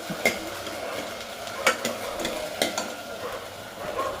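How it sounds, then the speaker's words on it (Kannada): Split field beans (avare bele) roast in oil for an Iyengar-style sambar, stirred in a pan. A low sizzle lies under a few sharp scraping stirs, close and fairly steady, with no voices. "ಎಣ್ಣೆಲಿ ಚೆನ್ನಾಗಿ ಹುರ್ಕೋಬೇಕಾಗುತ್ತೆ ಬೇಳೆನ"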